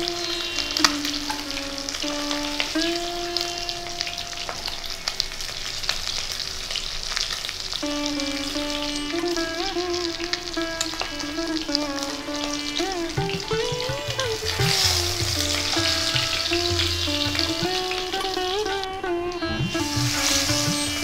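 Pomfret fish fry in oil with a steady, close sizzle and occasional stirring, while melodic background music runs over the cooking noise.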